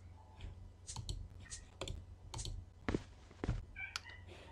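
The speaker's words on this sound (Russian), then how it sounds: "А я не в настроении слушать, как орет мой кот." A cat in the game The Crown of Leaves lets out several short, loud meows, up close, mixed with light clicking and tapping sounds.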